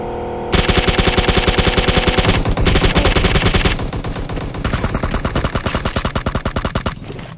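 Rapid automatic gunfire from a suppressor-fitted gun in PUBG Mobile, a loud continuous burst of closely spaced shots running for about seven seconds with only brief dips, no talking over it.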